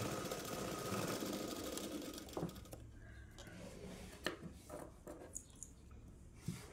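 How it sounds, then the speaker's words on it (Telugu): A sewing machine runs steadily while double-stitching the shoulder joints of an umbrella dress, a continuous whirring drone that eases off, followed by scattered clicks and handling noises. "డబుల్ స్టిచ్ చేయాలి షోల్డర్ జాయింట్స్కి."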